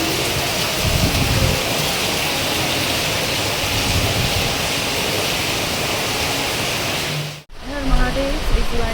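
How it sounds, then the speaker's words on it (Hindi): Heavy rain pours steadily during a road trip from Mumbai to Trimbakeshwar, a loud, dense hiss like a waterfall that runs unbroken, then cuts abruptly near the end into a quieter, different scene with a brief voice. "तेज़ बारिश हो रही है ना"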